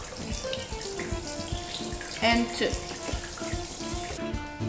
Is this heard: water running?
yes